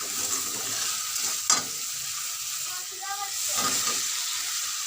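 Whole cumin and panch phoron frying in oil with sour yogurt and ground spices, a steady close sizzle with a sharp stirring scrape partway through and a brief quiet voice.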